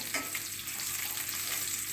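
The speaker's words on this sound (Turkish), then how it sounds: "Şöyle şu şekilde kızartıyor." Steady, close sizzling of içli köfte, bulgur shells stuffed with meat, frying in oil in a pan, a continuous crackle with light stirring and no voices.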